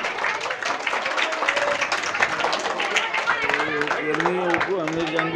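At a school event, an audience claps for a shawl presentation; the applause runs steadily throughout while someone speaks over it, and his voice becomes clearer toward the end.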